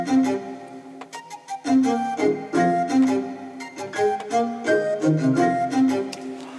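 A complete hip-hop beat plays loud and continuous with no voices, built on deep bass, a small piano figure and layered melodic parts.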